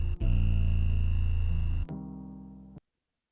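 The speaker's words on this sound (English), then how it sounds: "get a really cool high end and some kind of good distortion on my 808 here" Distorted 808 bass with a crisp high end, shaped with a distortion plugin in FL Studio: a loud, buzzing sustained note that shifts pitch, then a shorter second note that cuts off abruptly into silence.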